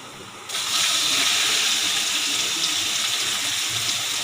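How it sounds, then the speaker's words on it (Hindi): Onions hit hot oil for beef biryani with a sudden onset, then a loud, close, hissing sizzle holds steady and continuous to the end. "फिर हम इसमें डालते हैं प्याज।"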